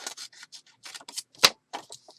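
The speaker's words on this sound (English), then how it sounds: "get my little scissors here, and I'll cut off that portion" Small scissors snip through a chipboard piece for a journal page, producing a quick run of crisp, close, dry cutting clicks and rustles with short gaps and one sharper snap.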